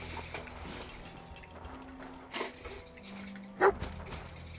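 Dogmeat, the dog companion in the video game Fallout 4, gives a single short bark near the end, rising over low game ambience and quiet footsteps.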